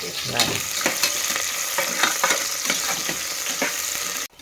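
A tempering of onion, green chillies and crushed cardamom frying in hot oil, a loud close sizzle with repeated ladle scrapes and taps throughout.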